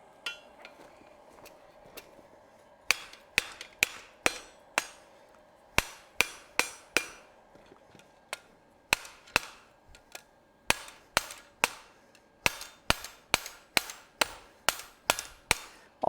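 A hammer rings on metal at a blacksmith's anvil during forging, giving sharp, bright, ringing strikes in uneven bursts and steady runs, loud and close, with a faint background hum between blows.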